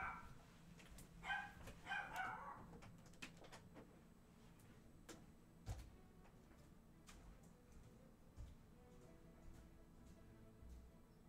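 A pet dog barking at its own reflection in a mirror gives a short burst of a few faint, distant yaps near the start, then falls quiet over low background noise.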